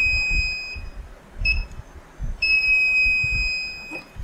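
A continuous multimeter continuity-test beep on a circuit board component briefly cuts out, then two shorter beeps follow, with small clicks and low background rumble.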